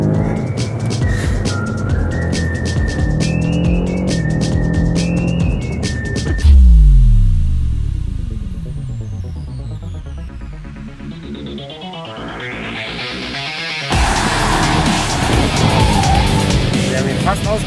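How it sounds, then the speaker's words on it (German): A 600 hp BMW M5 driven hard on a race track: loud engine roar with tire squeal and skidding, a sharp shift in sound midway as the car accelerates, with people talking over it. "einem BMW M5 mit 600 PS. Und wir werden noch auf die Rennstrecke gehen."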